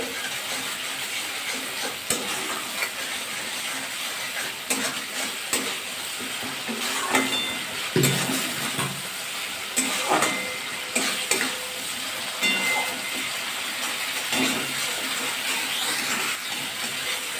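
Spice paste sizzling and frying in hot oil for Bengali potol chingri, a steady dense hiss with intermittent scraping stirs of a spoon in the pan, close and continuous throughout.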